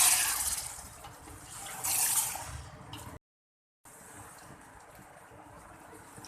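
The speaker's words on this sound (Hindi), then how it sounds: "मैंने 1 गिलास इसमें पानी डाल दिया है" Water poured from a glass into a pot of potato biryani, a steady splashing, running pour that swells loudly twice in the first three seconds, then cuts out briefly before a quieter trickling continues.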